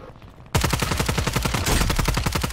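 Sustained automatic gunfire on Rebirth Island in Warzone, starting abruptly after a quiet moment and continuing as a fast, close, even rattle of shots to the end.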